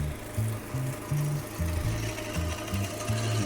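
A HECHT 6300XL Silent garden shredder with a 3000 W brushless motor pulls in a branch. It drones loud and close, with rhythmic lurching pulses as the wood feeds through, and no talk.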